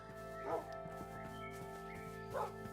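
Faint yips and short whimpering barks from a dog come twice, well apart, soft and distant beneath a steady tonal background with low hum.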